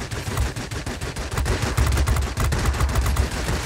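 Rapid aircraft cannon fire from a warplane's 23mm and 20mm guns in World of Warplanes, a loud dense stream of punchy booming shots in fast bursts over engine drone.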